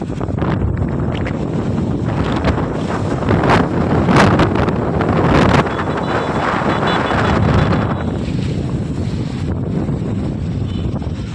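Strong wind roars and buffets steadily for several seconds, with gusty surges and rumbling bursts against the microphone, and no voices.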